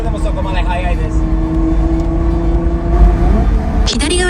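A car cruises fast along a road with the accelerator released, heard from inside as a steady, loud engine and road drone with a voice briefly over it and a sharp rattle near the end.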